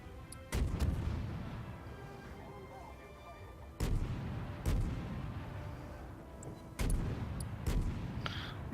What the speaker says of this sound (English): Let's fire some shots at him.